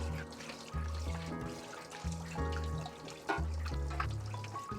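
Whey draining from cheese curds in a form for a homemade Roquefort-style blue cheese, an intermittent trickling and splashing of liquid heard up close, with uneven pulses of flow.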